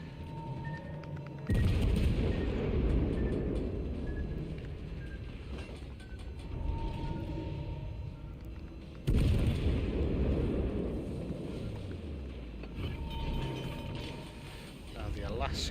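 Torpedo striking a warship in the naval combat game World of Warships Legends, heard as two heavy booming blasts with rumbling explosion tails, the second near the middle of the clip, with game mechanical noise between them.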